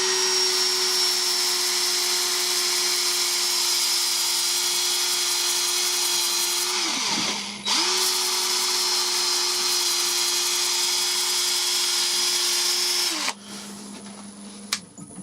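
Sanding pad pressed against a spinning elm and walnut bowl on a wood lathe, giving a loud steady whining drone that drops away briefly near the middle, then resumes and fades lower toward the end.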